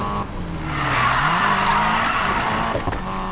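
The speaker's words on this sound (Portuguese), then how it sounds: "Vou fazer um drift aqui." A Nissan Silvia drifts in the Need for Speed Payback racing game, its tires skidding and squealing steadily for a few seconds over a revving engine, loud and close, with no voices.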